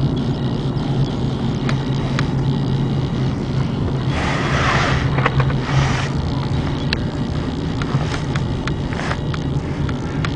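A Saturn car with a five-speed manual transmission driving along, with a steady engine and road drone plus wind noise running continuously, no talking.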